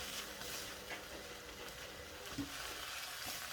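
Crickets pan-roasting with sliced lemongrass give off a steady, close sizzle and crackle that runs throughout with no voices, broken by a few light stirring scrapes.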